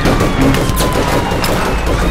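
Loud, sharp gunshots crack out in a quick cluster over dense, rumbling game noise.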